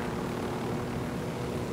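A propeller airplane flying by in a video game, a faint steady engine drone that holds evenly for its short length with no talking over it.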